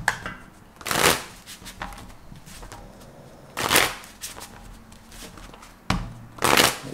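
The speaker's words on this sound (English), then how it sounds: "Two more shuffles." Tarot cards being shuffled in three bursts of crisp riffling, each about a second long, separated by quieter pauses with soft handling noise; close and clear with no talking.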